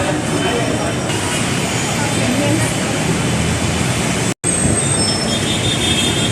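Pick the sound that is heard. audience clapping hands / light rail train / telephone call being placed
light rail train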